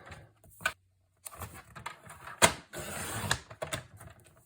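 A paper cutter slices double-sided paper into strips, giving a series of short scraping, clicking cuts and sliding blade strokes with brief pauses between them, close by and fairly quiet.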